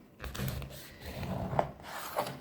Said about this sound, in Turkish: Şimdi bir dilim daha sizin için incecik keseceğim.